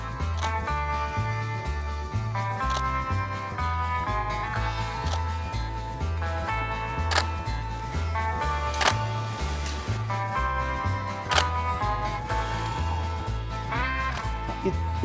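An SLR camera shutter clicks repeatedly at a cowboy-themed movie poster portrait shoot, sharp transients spread across the clip and partly buried under loud music with a steady bass pattern.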